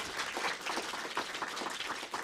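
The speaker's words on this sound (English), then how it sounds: "let's thank Dr. Murray one more time with a round of applause" An audience at a university lecture claps steadily, a dense, even patter of many hands lasting throughout, heard from within the room at moderate volume.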